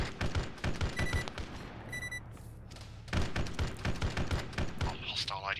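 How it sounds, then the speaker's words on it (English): Artillery and gunfire in a military video game: a rapid series of loud, close blasts and thuds in clustered bursts, with a short pause in the middle, under occasional talk. "What's with the artillery?"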